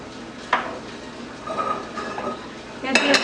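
Metal pots, pans and utensils clatter and clink in a home kitchen while potato and brinjal cutlets are cooked: a sharp knock near the start, softer scraping in the middle and a louder rattling burst at the end.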